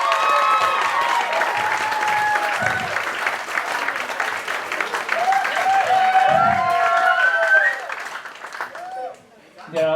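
Sustained applause and light cheering from a wedding reception crowd for the groom after the best man's speech, loud and steady for several seconds before fading out near the end.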